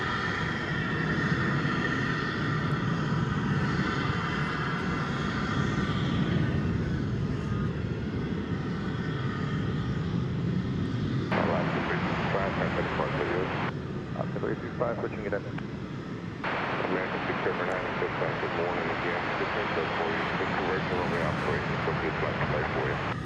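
An American Airlines jet waits at DFW Airport ready for takeoff, its engines giving a steady distant roar and whine that shifts in tone partway through, while a person talks over it throughout.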